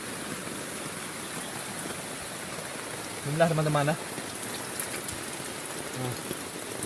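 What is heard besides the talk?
heavy rain on a tent while camping by a river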